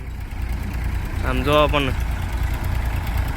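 An old tractor engine idling with a steady low rumble throughout, and someone speaks briefly over it.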